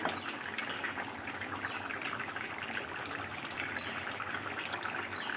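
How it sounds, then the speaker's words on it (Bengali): Pieces of magur fish simmer in a bottle gourd curry with a steady, dense bubbling and burbling that stays even throughout, close up with no talking. "এতে মাছটা খানিক খানিকক্ষণ ঝোলের সঙ্গে ফুটবে"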